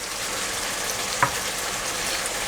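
Chicken stir-fried with lemongrass and oyster sauce in a pan gives a steady broadband sizzle throughout, with one brief louder clink or stir near the middle and no voices.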